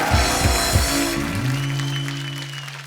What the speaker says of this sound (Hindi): जोरदार ताली होनी चाहिए यार